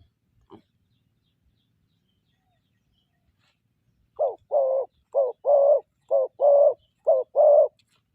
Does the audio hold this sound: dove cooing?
yes